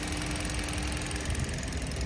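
A 2018 Kia Rio X-Line with a 1.4 engine idles with a steady, even hum and faint mechanical ticking, close and continuous with no talk.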